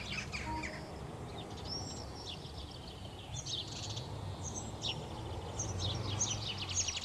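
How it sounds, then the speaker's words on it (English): House sparrows nesting in a London park chirp in quick high bursts and scattered tweets, faint and somewhat distant over a steady low outdoor rumble, with no voices. "the sparrows have taken to building in the base of herons' nests"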